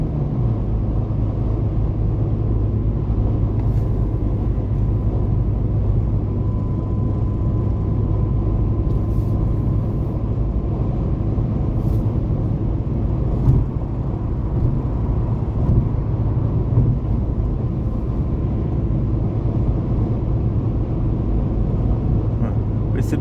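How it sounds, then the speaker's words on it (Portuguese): A Ford Focus engine with twin throttle body injection idles and revs with a low steady rumble throughout, held at an even level, close by, with no talking. "Que lindo o barulho das TBI"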